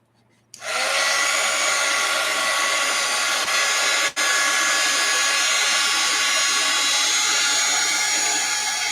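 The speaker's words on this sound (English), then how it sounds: "Let's hit it with the heat gun." Heat gun switches on abruptly and blows a loud, steady whooshing roar to melt wax on a painted art-journal page, with a brief dip midway before resuming unchanged to the end.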